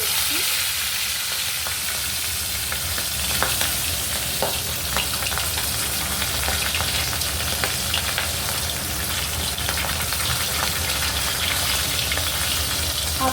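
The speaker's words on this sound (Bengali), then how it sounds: "আমার তেলটা তো গরম হয়ে গেছে এবার আমি মাছের মাথাগুলো ভেজে নেব" Rohu fish heads fry in hot oil in a close, steady, dense sizzle that runs unbroken throughout, with faint scattered pops and spatters and no voices.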